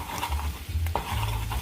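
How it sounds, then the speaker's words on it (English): A spoon stirs curry powder into a butter and garlic mix in a hot pan, scraping and clinking against the metal with a soft sizzle underneath, close and fairly loud. "you stir that so that it's evenly distributed into the butter and garlic mix"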